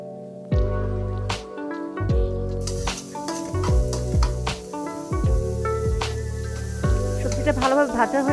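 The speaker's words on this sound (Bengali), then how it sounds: "বরবটি কুচিটা দিয়েও একটু নেড়ে নিব।" Chopped yardlong beans are stir-fried in a pan for fried rice with sausage: a steady sizzle, broken by repeated metallic clanks and scrapes of a spatula stirring at an uneven rhythm, close and loud.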